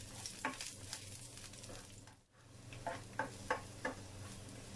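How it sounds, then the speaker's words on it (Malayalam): Ginger and garlic sautéing in a pan for prawn pickle, with a steady low sizzle and scattered stirring scrapes and taps, faint and close, with no voices. "ഇനി ഇത് ജസ്റ്റ് ഒന്ന് വഴട്ടിയെടുക്കുക."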